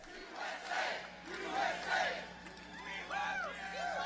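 Large rally crowd in Winston-Salem roaring and whooping in swelling waves, distant and reverberant, with rising cheers near the end.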